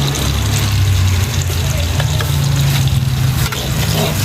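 Fish frying in a pan for sambal ikan, giving a steady, loud sizzle and crackle with a low hum underneath that continues throughout.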